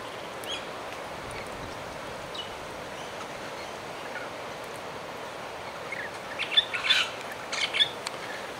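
Wild birds at Loch Sport give faint, scattered chirps and calls while being fed outdoors, mostly quiet background hiss with a small cluster of sharper calls near the end.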